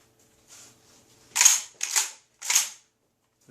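A pump-action shotgun, chambered for 2 3/4-inch double-aught buckshot, is handled with a soft click and then three sharp, loud metallic clacks of the action being racked, close and with no talking.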